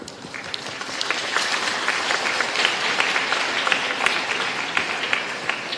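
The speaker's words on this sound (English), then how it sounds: "Applaud the President." An assembly audience at a UN-style session applauds the President, a dense, steady wash of many hands clapping at moderate distance that swells after a moment and holds without pause.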